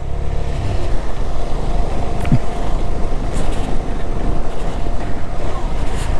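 A motorcycle riding off-road in off-road mode on the Chang La pass climb, its steady engine drone continuous and loud, with heavy wind buffeting the microphone throughout.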